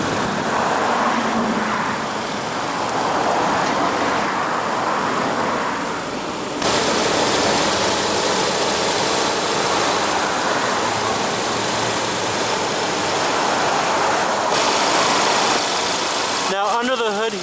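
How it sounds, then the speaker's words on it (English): A 2016 Audi S3 with a 2.0-liter turbocharged four-cylinder engine idles steadily and close, a continuous even hum that grows slightly louder partway through, with a brief sharper noise at the end. "This is a 2-liter turbocharged 4-cylinder engine."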